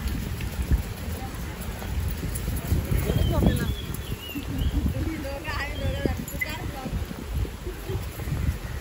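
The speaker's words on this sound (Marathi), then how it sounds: "पाणी पण पडत आहे, जास्तच आहे." Heavy rain falls steadily at Ganpatipule, a constant hiss with scattered spatters, while people talk over it.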